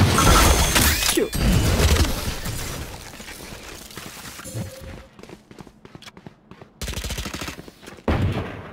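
Sheriff pistol gunshots in the video game Valorant, a few loud, sharp reports with metallic mechanical clicks and impact clatter, followed by quieter in-game movement and effects between bursts.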